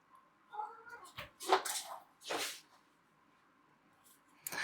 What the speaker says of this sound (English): the kittens are absolutely crazy today